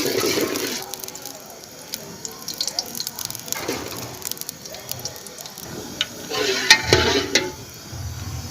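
A spoonful of ghee heating in a hot pan on a stove for restaurant-style chicken korma, a soft intermittent sizzle with clinks and stirring under a voice speaking.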